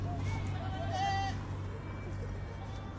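A goat bleats in a wavering, drawn-out call near the one-second mark, close by, over a steady low background hum.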